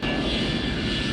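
Airplane engine roar from a forced-landing scene in the film Delta Force, a loud, steady, continuous aircraft drone heard alone for a brief moment.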